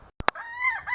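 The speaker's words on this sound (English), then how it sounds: "Quick check in with the chickens." Rooster crowing among backyard chickens, a single close, strained cock-a-doodle-doo rising after a couple of short sharp clucks, with no talk over it.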